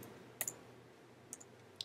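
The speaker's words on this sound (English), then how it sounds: "We're going to then press our delete key on our keyboards." Sharp single clicks from a computer keyboard's delete key, three spaced presses close to the mic in an otherwise quiet room.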